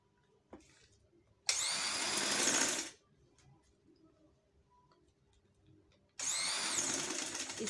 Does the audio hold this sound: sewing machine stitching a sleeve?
yes